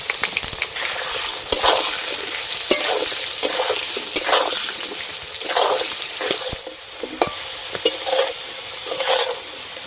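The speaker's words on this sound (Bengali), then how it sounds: "আলুগুলো ভালো করে ভেজে নিয়েছি, এবার তুলে নেব।" Potato pieces fry in hot oil in a pan with a steady, bright sizzle, broken by repeated scraping bursts as they are stirred, close and fairly loud, with no voices.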